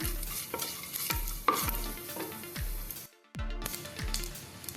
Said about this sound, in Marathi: त्याच्यामध्ये आपण खडा मसाला घालूया लवंग मिरे दालचिनी आणि तमलपत्र ते पण आपण थोडंसं फ्राय करून घेऊया